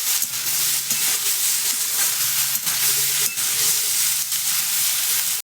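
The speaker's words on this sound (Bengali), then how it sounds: "এবার এগুলোকে আমি ভালোভাবে ভেজে নেব" Vegetables with eggplant fry in a pan for a Bengali anniversary meal, giving a steady, loud, close sizzle that barely pauses. A few soft stirring clicks break through the crackle.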